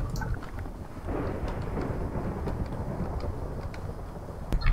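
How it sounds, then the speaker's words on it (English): Steady, low rumbling thunder with a wash of rain noise from a Minecraft UHC thunderstorm rolls on continuously at a moderate level, with a few faint clicks and no speech. "Yeah, this is a crazy storm."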